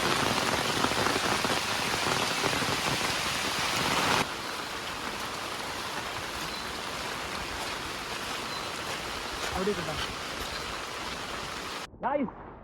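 Heavy rain pours in a loud, dense roar that eases slightly partway through, with faint voices underneath.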